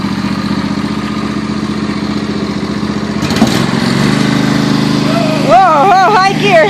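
Lawn mower engine idling steadily, then revving up and working under load while towing two quads, close and loud, with voices talking over it toward the end.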